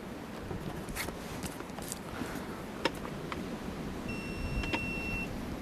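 A single steady electronic beep from a beehive scale sounds for about a second over low background rustling and handling noise, with no talking.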